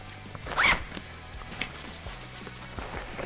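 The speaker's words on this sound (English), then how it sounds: "Inside the top lid we have another zipper" One quick zipper pull on a Norrøna backpack's top-lid pocket rasps briefly, close and crisp, followed by soft handling noises and faint taps in an otherwise quiet setting.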